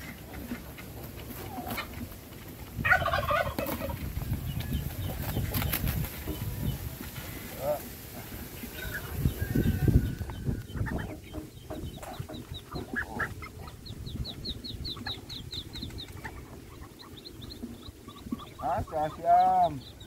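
Farmyard turkeys and newly hatched ducks calling, with clucking, chirps and peeping bursts close by, mixed with rustling handling noise and someone talking at intervals.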